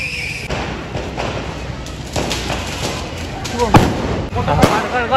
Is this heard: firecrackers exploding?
yes